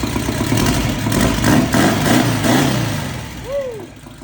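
Engine of a sand limo roaring on its first start, loud and close, with a rough, pulsing idle and revs that rise and then ease off.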